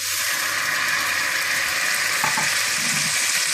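Butter heats in a pan for zarda, a sweet rice dish, giving a steady, close hissing sizzle that carries on evenly throughout with no talk.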